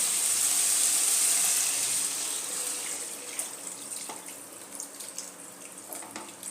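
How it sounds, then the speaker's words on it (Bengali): Water poured into a pan of vegetables cooked down with spices for a fish curry, a loud steady pouring hiss fading into bubbling, crackling simmer. "সবজির সাথে আমার মশলাটা কষানো হয়ে গেছে এর মধ্যে এবারে আমি জল দিয়ে দেব"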